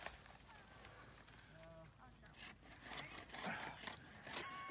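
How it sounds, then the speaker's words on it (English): A hand saw cuts through the trunk of a Christmas tree with rhythmic rasping strokes, fairly faint and outdoors, as people talk nearby. "you saw that tree down"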